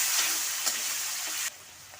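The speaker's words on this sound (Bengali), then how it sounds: "অল্প অল্প অল্প গরম জল দেবো আর মশলাটা কষিয়ে নেব।" Spice paste for a potol (pointed gourd) curry frying in a pan as warm water is added little by little, giving a loud close sizzle and hiss that drops abruptly near the end.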